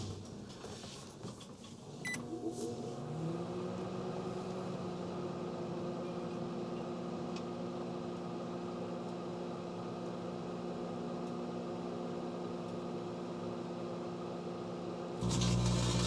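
A microwave oven runs with a steady electric hum and drone, starting after a short click and continuing unbroken to the end, with plasma arcing inside.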